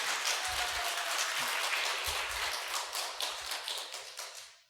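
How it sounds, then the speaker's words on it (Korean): Church congregation applauding the risen Lord during an Easter service, a dense, steady wash of many hands clapping that carries on before tapering off at the end. "자, 우리 부활하신 주님께 영광의 박수 올려드립니다."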